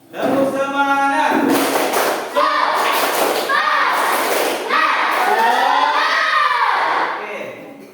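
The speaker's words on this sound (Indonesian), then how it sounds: "Tepuk semangat." Classroom children perform a rhythmic spirit clap chant, shouting and calling out together in loud, lively bursts with rhythmic clapping and thumps mixed among their voices.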